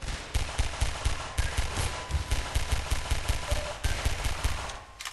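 Rapid automatic gunfire in the video game Half-Life 2, a dense continuous stream of punchy bursts repeating roughly every few tenths of a second, loud and near, with no talking over it.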